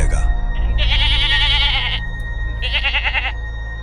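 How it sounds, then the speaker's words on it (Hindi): A billy goat bleats loudly in two long, wavering bursts separated by a short pause, close and alone with no talking over it. "अचानक बकरा जोर जोर से मिमियाने लगा।"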